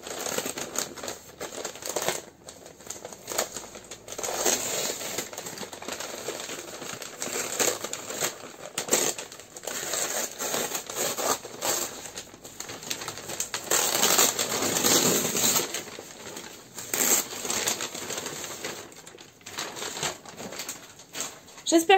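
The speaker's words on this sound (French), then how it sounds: "vous entendrez tous les jolis bruits des petits bouts de scotch, etc. Comme moi je peux les entendre quand je déballe." Small tape pieces tear and packaging crinkles while a swap parcel is unwrapped by hand, an irregular run of close, crisp rustles and rips that keeps going throughout.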